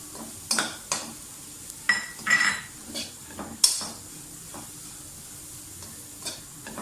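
Carrots and other vegetables sizzle in a hot pan for egg fried rice, with a spatula repeatedly scraping and clanking against the metal in short, close strokes over a steady frying hiss.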